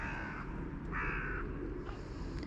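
Crows cawing around a feeding station near a lamppost, a few harsh calls in short bursts over steady outdoor background noise.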